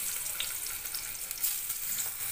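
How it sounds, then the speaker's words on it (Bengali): Fish sizzling steadily in hot oil in a pan, a dense, even crackle with small pops that continues alone without any talking. "এর মধ্যে দিয়ে দেবো মাছগুলো, ভেজে নেব"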